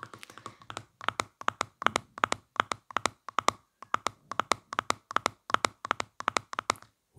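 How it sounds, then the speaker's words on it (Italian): Close, crisp hand clapping in a quiet ASMR setting, a long run of sharp, regular claps that keeps a fairly even rhythm with a brief pause partway through. "Applausi, applausi."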